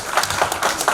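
Wedding guests clapping for Aristide, a short burst of steady overlapping handclaps from a nearby crowd, fairly loud and dense, with no speech over it.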